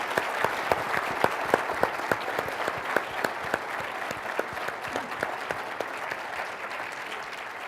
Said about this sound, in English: let's have another round of applause for Tom